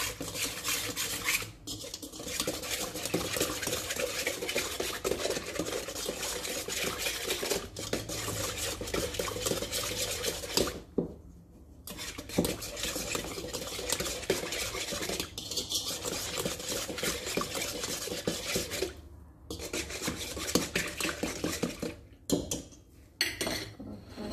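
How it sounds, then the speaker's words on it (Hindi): Bread roll ingredients are mixed in a bowl with a spoon, making a continuous scraping and clinking stir with a few brief pauses. "तो अब मैं इसको अच्छी तरह मिक्स करूँगी इन चीज़ों को।"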